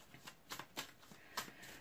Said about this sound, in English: I am going to give them a little bit more of a shuffle